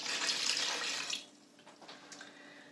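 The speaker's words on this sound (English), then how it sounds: "we want 3/4 of a pint of water in there as well" Water pours steadily into a pan for making marmalade, a bright continuous splashing stream for about a second before cutting off, leaving a quiet room with a few faint drips and clinks.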